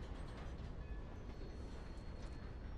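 In the Red Dead Redemption 2 video game, a train rolls along the rails with a continuous low rumble and faint clatter. The sound stays steady and fairly quiet throughout, with no voices over it.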